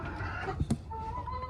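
Backyard farm chickens clucking nearby, a couple of short clucks in quick succession over a low murmur of the flock, brief and moderately quiet.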